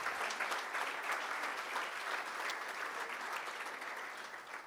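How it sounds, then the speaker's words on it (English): Conference audience at the PMI Africa conference 2019 gives a sustained round of applause, dense steady clapping filling the hall throughout and tapering slightly at the end. "let's give her another round of applause."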